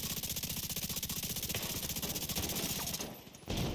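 Automatic gunfire in The Division 2, a rapid, steady burst of loud shots rattling for about three seconds, briefly cutting off before another shot resumes.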